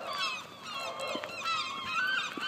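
Seagulls call noisily outside a supermarket car park, several overlapping harsh honking cries in quick succession, fairly close and loud, with no talk.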